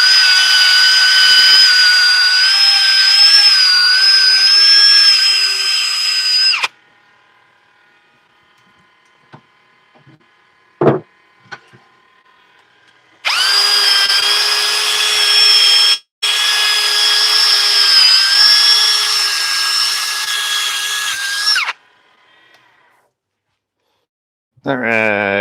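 A power sander works wood in two long steady runs of loud, even whine, separated by a quiet stretch with a brief knock, and a short burst of sound at the very end.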